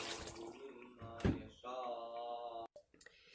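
Water is poured into a cooking pot while making achari aloo pulao: a short, close pour with a bubbling, rising tone, framed by a few clunks and splashes, then a quick stop.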